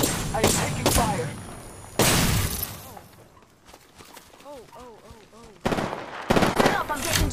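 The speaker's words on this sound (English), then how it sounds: "Stop, I'm getting shot at." Video game gunfire strikes the player in loud bursts, with a sharp broadband burst at the start, another around two seconds and more near the end, and a quieter stretch in between where a voice speaks.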